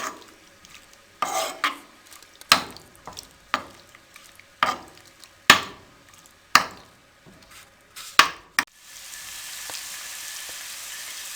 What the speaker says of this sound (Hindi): अब चिकन को भी हम अच्छे तरीके से भून लेंगे। एक अदद नींबू का रस जो हमने इसमें ऐड किया था, उसी में हम इसको भून लेंगे।